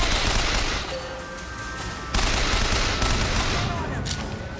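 Enemy mortar fire in the shooter Bioshock Infinite: loud, sustained volleys of blasts and gunfire, with a sharp new impact midway and steady rumbling throughout.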